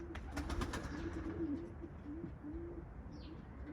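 Domestic pigeons on a balcony coo in repeated low, throaty phrases, loud and close over a steady background hiss, with a brief faint chirp near the end.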